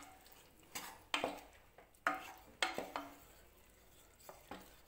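Chicken is being mixed with yogurt and dry spices in a pan, giving a handful of close, distinct spoon scrapes and knocks against the pan spaced about a second apart, with quiet gaps between them.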